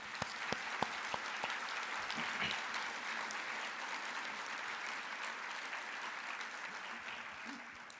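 Sustained audience applause for the three finalists at the 2015 INFORMS Franz Edelman Gala, a few sharp early claps swelling into a steady roar of clapping that holds throughout.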